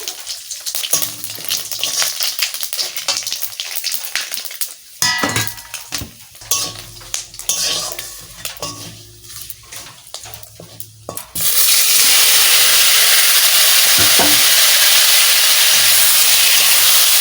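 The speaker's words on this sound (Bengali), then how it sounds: "তেজপাতা দিয়ে দিছি শুকনো লঙ্কা দিয়ে দিচ্ছি গোটা জিরে দিয়ে দিচ্ছি" Bay leaf, dried chillies and whole cumin fry in hot oil with loud crackling and spoon stirring, building to a dense, steady sizzle that holds close and strong to the end.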